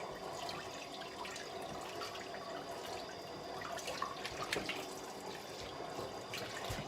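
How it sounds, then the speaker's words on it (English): Tap water runs over a whole raw turkey held in a kitchen sink, a continuous splashing rush with occasional drips and heavier splatters as the bird is turned. No speech. "what I want to do now is rinse my turkey"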